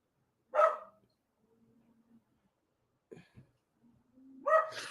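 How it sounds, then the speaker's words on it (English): A dog barks indoors: one loud bark, a short low whine and a soft yip, then a second loud bark, each separated by near silence. "would you shut up for a second while I look on my belt? That dog."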